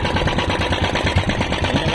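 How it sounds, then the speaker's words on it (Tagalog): A repaired engine running steadily at idle, a close, loud chugging hum with a fast even rhythm and no voices over it. "Ayun naman yung makina, mandar na"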